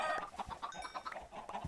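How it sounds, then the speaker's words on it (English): Chickens cluck in a video game, a busy cluster of short, overlapping clucks and squawks repeating at a close, fairly loud level with no talk over them. "die, you little chickens"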